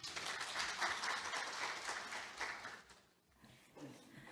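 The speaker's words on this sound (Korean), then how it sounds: "큰 박수 부탁드립니다." An audience at a government innovation forum applauds with steady mixed clapping heard from a distance, which fades after about three seconds, followed by a short quiet stretch and a little scattered sound.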